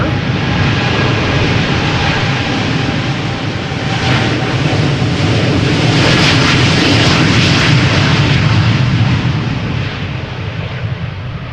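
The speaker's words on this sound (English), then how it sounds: "787-10 Dreamliner going to Chicago O'Hare" KLM Boeing 787-10 Dreamliner departing Amsterdam Schiphol for Chicago O'Hare, a loud, sustained jet engine roar with a rumbling low end that peaks midway and then slowly eases off.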